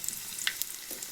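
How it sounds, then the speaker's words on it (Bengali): Diced potatoes with nigella seeds fry in hot oil, a brief close sizzle with a light scrape of stirring. "এবার আমি এখানে ভালো করে ভেজে নেব।"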